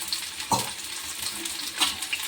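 Onion and green chillies frying in oil in a home kitchen, a soft steady sizzle with a couple of louder stirring scrapes, close by and without speech.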